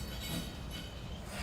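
Night scene at a railroad park in Cordele as a freight train led by locomotive 4632 rolls past close by, a steady heavy rumble of wheels and cars with no pauses and no voices.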